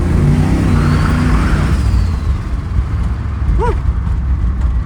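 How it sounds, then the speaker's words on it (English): Turbocharged small-block Chevy in a third-generation Firebird GTA pulls hard, a loud close engine roar and whir that eases off, followed by a sharp whistling whoosh of the blow-off valve venting. "The blow-off valve is working nicely."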